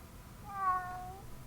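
A cat in the video game Lost Judgment gives a single soft, drawn-out meow, faint against quiet background sound.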